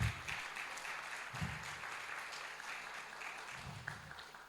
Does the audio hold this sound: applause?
yes